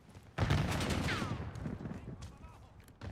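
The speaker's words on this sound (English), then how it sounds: "It's the SMG I'm using here." Burst of submachine-gun fire in the Black Ops 6 multiplayer shooter, a loud rapid volley that starts sharply and rattles on for over a second before fading into faint background game noise.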